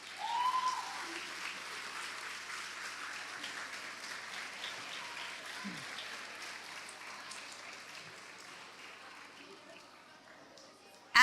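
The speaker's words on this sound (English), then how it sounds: "A huge round of applause, please." Audience applause at a school awards ceremony, a steady, distant wash of clapping from a large crowd that holds for several seconds, then slowly thins and fades toward the end.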